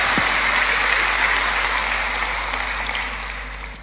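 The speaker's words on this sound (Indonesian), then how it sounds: "Tepuk tangannya boleh yang paling meriah buat Tuhan kita." A church congregation at an Indonesian worship service applauds: dense, steady clapping from a large crowd that fades slightly toward the end.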